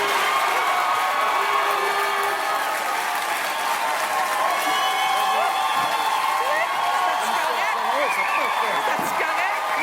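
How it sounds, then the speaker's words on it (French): A TV show audience applauds and cheers, with steady dense clapping and scattered whoops running the whole time, loud and close. "On applaudit"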